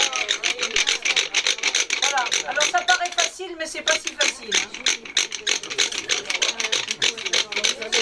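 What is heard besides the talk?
manual hand drill boring a hole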